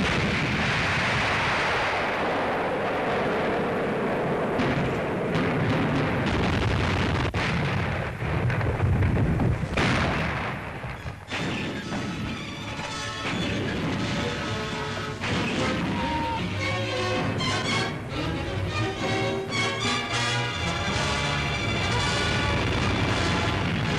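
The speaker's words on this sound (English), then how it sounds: "Shore batteries shelled the invaders, and the supply ship received a direct hit." Shore batteries shell the invasion landings on Sicily: repeated heavy booms and crashing bursts over a dense, noisy roar that keeps up throughout, recorded on old, rough-sounding equipment.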